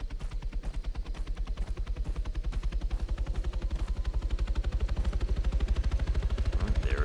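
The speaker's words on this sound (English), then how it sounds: "And that's starting to sound like a helicopter." A helicopter in the military shooter ARMA III, its steady rotor chop pulsing fast and loud for several seconds, growing slightly stronger as the aircraft spins up, with no talk over it.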